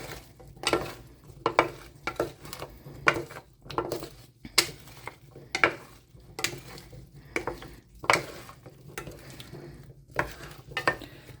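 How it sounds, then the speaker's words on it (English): Vegetables tossed in oil and salt before roasting give off repeated rustling, clattering bursts roughly every second, close and moderately loud with short quiet gaps between tosses and no speech. "Give all of this a nice toss to get everything coated in the oil."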